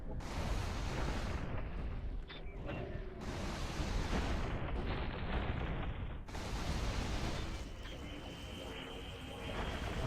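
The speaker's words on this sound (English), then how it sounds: "Like you can see, missiles and beams going on." Missiles, energy beams and explosions in the space combat game Space Pirates and Zombies 2, on insane difficulty, heard as loud, dense rumbling blasts in continuous bursts with brief gaps between them.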